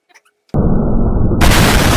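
Sandbox tree fruit bursting open in a sudden, loud, harsh explosion that holds at full force for well over a second after a brief quiet lead-in.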